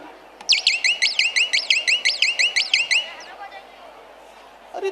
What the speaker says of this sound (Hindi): ध्यान दे बज़र की तरफ